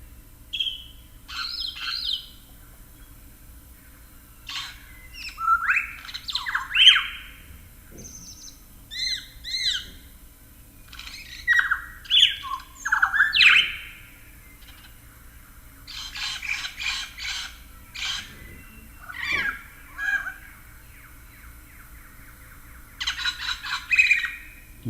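A lyrebird gives a mimicked kookaburra call, a series of loud, separate chattering and whistling bursts spread across the whole stretch, heard alone against a quiet background.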